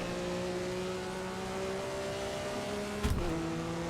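A Maserati 250F in Assetto Corsa revs steadily at Monza, its engine drone holding and climbing with a short rough burst near the end, loud and close with no voices.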